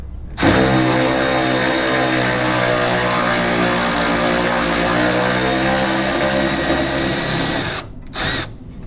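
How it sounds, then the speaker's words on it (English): A cordless ratchet whirs loudly and steadily for about seven seconds while working on a 1970 Nova fender, then stops briefly and gives a short final burst. "the cordless ratchet is pretty sweet. That's true, although now everybody has to listen to it"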